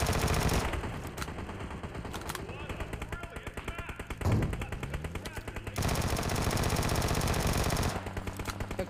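Rapid automatic fire from a Vector or PP submachine gun in PUBG Mobile, dense sustained bursts that break off for a few seconds and then resume, loud and continuous throughout.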